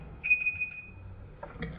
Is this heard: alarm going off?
yes